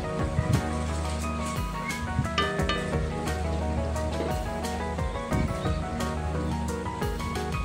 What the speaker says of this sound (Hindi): ह्याला परत एकदा आपण मिक्स करून घेऊया।